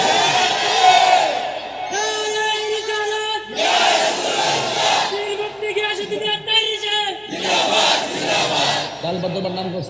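Crowd at an outdoor religious sermon gathering shouting a slogan in loud unison bursts, three to four rhythmic chanted waves with pauses between, voices booming through a sound system.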